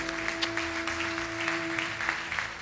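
Congregation clapping in a church service, a steady, dense wash of applause under a sustained tone, continuous and fairly even throughout.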